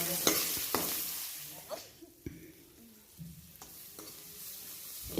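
Chopped onion, bay leaf and dried chilli fry in oil with a soft, steady sizzle, broken by several sharp clicks and taps of a spoon stirring against the pan.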